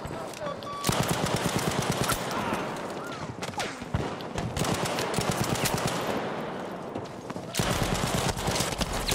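Rapid bursts of MG34 machine gun fire in the World War II shooter Battlefield V, loud and dense with repeated gunshots and a busy battlefield behind them, firing almost continuously with a couple of short breaks.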